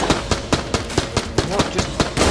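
Enemies firing guns in the video game Enter the Gungeon, a steady rhythm of about ten sharp, loud shots spaced evenly, each with a quick decay.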